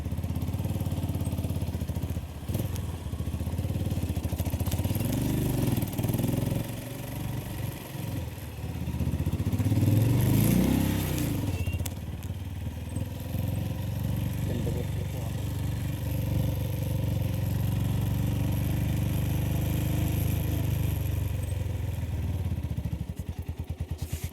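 A scooter engine runs steadily for the whole stretch, a continuous mid-pitched buzzing drone with some clatter and a brief louder swell partway through.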